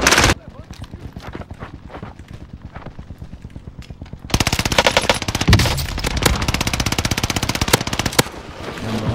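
Rapid automatic gunfire in Call of Duty Warzone, with a Marco 5 pistol loadout in play, dense bursts of shots, quieter at first and then loud and continuous in the second half, while players talk over it.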